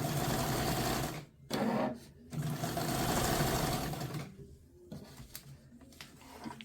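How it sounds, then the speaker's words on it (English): A sewing machine runs in fast bursts as it stitches crumb quilt strips, stopping briefly twice before a longer run, then slowing to a few short stitches with light handling noises. "Now I start sewing 1/4 inch before the strip and after the strip, since I'm leaving those on."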